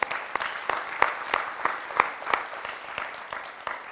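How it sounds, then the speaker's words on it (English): Scattered claps from a small audience land at a steady, fairly quick rhythm, each crisp and distinct rather than merging into a wash, with quiet room noise between them and no talking. "That deserves some applause"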